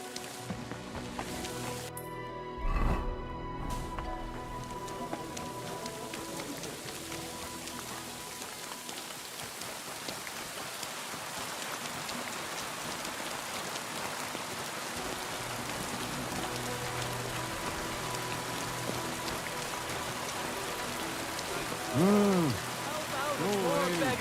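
Steady rain pours down across a medieval town street in Kingdom Come Deliverance 2, a continuous hiss with a brief thump early on and faint tonal game sounds underneath.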